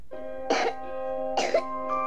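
A person coughs twice in a quiet indoor setting, two short, harsh bursts about a second apart over a faint steady hum.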